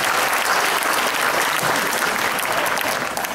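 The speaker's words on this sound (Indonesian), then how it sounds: "Berikan aplaus untuk kita semua." An audience at a university address applauds, with dense, steady clapping filling the whole short stretch.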